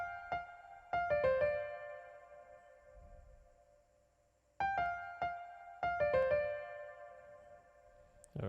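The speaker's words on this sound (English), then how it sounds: "this piano that just came in at different times." Piano notes in a beat come in short clustered phrases, bright struck tones decaying between gaps of near silence, clean and close without any voices.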